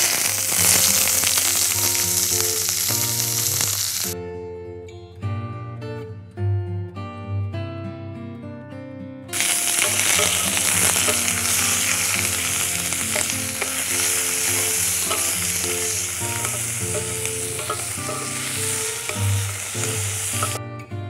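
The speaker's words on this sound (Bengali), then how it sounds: "পেঁয়াজটাকে আমরা একটু লাল লাল করে ভেজে নেব" Chopped onions fry in hot oil with cardamom and cloves for a Bengali panchratna dal, a steady loud sizzle and crackle that runs alone throughout, with background music briefly prominent partway through.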